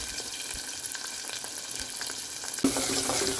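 Onions fry in a pan with a steady crackling sizzle and occasional stirring scrapes, growing louder and brighter near the end as the frying intensifies.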